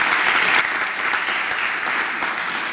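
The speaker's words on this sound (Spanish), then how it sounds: "Let's give her a big round of applause." A workshop audience breaks into a round of applause, dense steady clapping that starts loudest and settles slightly lower while continuing throughout.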